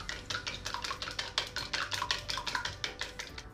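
Rapid, steady clinking as beaten egg mixed with a cornstarch slurry is whisked in a bowl, a close, continuous run of light utensil taps against the bowl's side.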